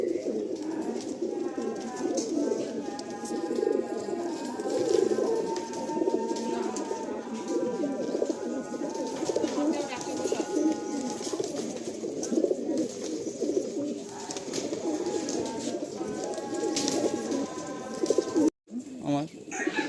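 Pakistani Teddy pigeons, a fancy Kasuri breed kept by a pigeon seller, coo steadily and close up in overlapping throaty calls through the whole stretch while people talk nearby.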